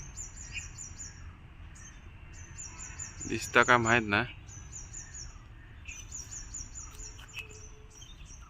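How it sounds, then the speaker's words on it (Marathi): Birds in a mango orchard in Konkan. Repeated high chirps recur through the whole stretch, faint and spaced in short bursts, over a quiet background. A person speaks briefly in the middle. "आणि पक्ष्यांचं किलबिलाट आणि ह्यो बघा ह्यो पक्षी बघा"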